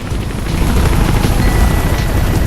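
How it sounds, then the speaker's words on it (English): Pursuing helicopter in the Mirror's Edge video game gives off a loud, continuous low rumble with rotor wash and windy roar, steady throughout with no voices. "I decided to check if the helicopter chasing you actually had a pilot"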